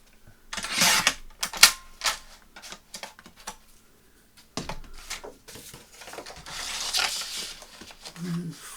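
Card stock is trimmed for botanical sticker postcards, giving a string of sharp clicks and snips, with brief scraping bursts and short rustling between the cuts.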